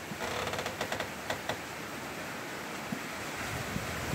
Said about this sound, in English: Woke up with all this wind going crazy here.